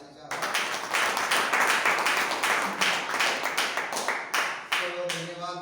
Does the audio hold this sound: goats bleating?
no